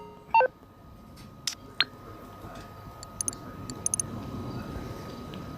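Phone keypad beeps from a smartphone in GTA 5 story mode: a few short bright tones and clicks, near and clear, over a low steady background hum, with no talking.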